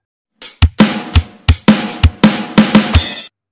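A real drum kit plays a short beat at standard tempo, about a dozen close, punchy hits of kick, snare and cymbals in a steady rhythm, with no voices.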